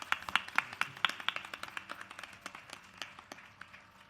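A small audience at a Bharatanatyam Arangetram dance recital claps after a piece, with distinct individual hand claps that start brisk and fairly loud, then thin out and grow fainter.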